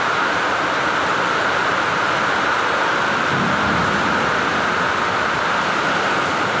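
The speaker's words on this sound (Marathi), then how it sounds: "मोठा पाऊस आला मोठा." Heavy rain pours at a temple on the Konkan coast near Velneshwar Beach, a dense, steady roar of downpour that stays loud and unbroken throughout, with no voices.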